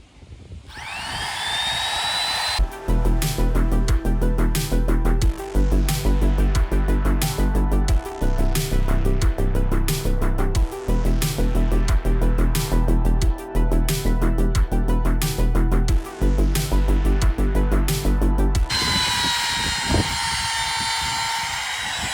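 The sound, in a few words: power tool trimming the edge off a new boat hatch lens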